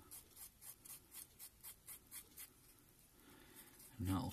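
Side of metal tweezers rubbed back and forth over a fly-tying thread whipping on a goose quill float, giving about a dozen soft, rhythmic scratchy strokes, close and fairly faint, ending with a brief louder handling knock.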